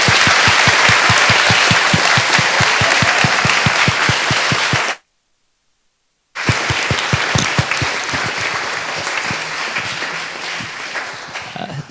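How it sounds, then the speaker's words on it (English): Sustained audience applause at a Cambridge Union talk, loud and dense with steady clapping throughout, broken by a brief silent gap before resuming. "If you could all join me in giving her a very warm round of applause."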